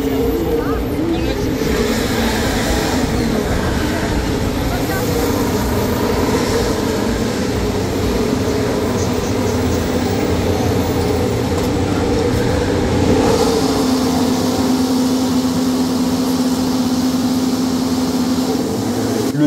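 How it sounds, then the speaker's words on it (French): Loud, continuous roar of Formula 1 cars accelerating at close range at the Monaco Grand Prix, a dense rumbling drone that holds steady throughout with a rising whine near the end. "tout Monaco tremble déjà sous les accélérations des Formule 1"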